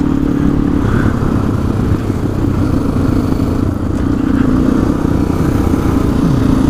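Honda XR400 dirt bike running close to wide open at speed, a steady loud engine drone with a continuous buzzing rumble throughout, no pauses or gear changes standing out.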